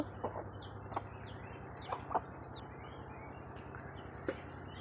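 Chickens on a village farm, some of them sick, cluck quietly in short scattered bursts over a steady low hum, fairly distant and faint with no talking.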